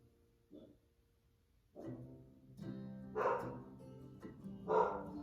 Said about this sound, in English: You probably hear my dog barking